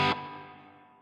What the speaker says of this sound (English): And then a reverb. I kind of like the 63 spring,